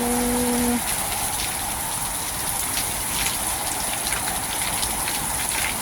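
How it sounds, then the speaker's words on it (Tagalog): Heavy rain pours down steadily in a broadband hiss, with a brief tone at the very start, near a vegetable stall. "lakas ng ulan naka ano na naman naka yellow ember biglang bagsak po oh"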